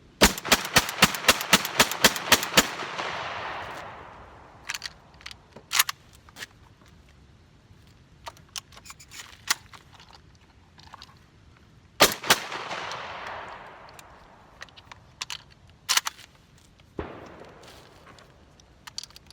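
A JM Pro semi-automatic shotgun fires at an outdoor range: a rapid string of about ten sharp blasts, then scattered single shots with pauses and a second quick burst, loud and close with no talking.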